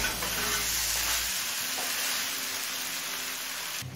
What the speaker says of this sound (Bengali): এবার মিডিয়াম ফ্লেমে আরও কিছুক্ষণ কষিয়ে নেব।